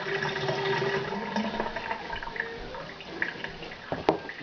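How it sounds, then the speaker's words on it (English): Tap water runs and splashes over hands as enchilada sauce is rinsed off, a steady close trickle with a few sharper drips and splashes near the end. "I rinse them off because I got sauce all over them."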